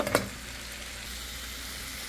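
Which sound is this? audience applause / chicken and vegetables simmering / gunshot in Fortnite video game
chicken and vegetables simmering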